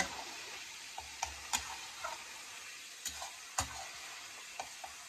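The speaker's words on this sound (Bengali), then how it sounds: "দিয়ে এবারে এটাকে ভালো করে ভাজা ভাজা করব" A vegetarian dish of banana-stem paste, with sugar added, fries and gets stirred in a pan, giving a steady soft sizzle broken by sharp clicks and scrapes of the spatula.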